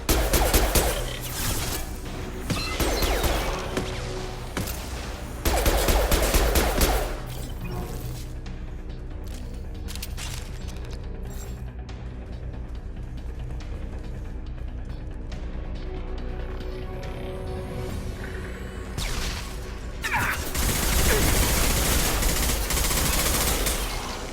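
Automated turret firing in the Mass Effect 2 video game, dense bursts of rapid gunfire at the start and again near the end, with a quieter stretch of mechanical and ambient game sound between.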